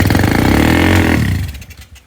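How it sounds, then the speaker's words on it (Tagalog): Kaloy's motorcycle engine runs loud and close with a rough, rapid chugging rev that holds, then fades as the engine dies away within about two seconds. "Ang motor ni Kaloy."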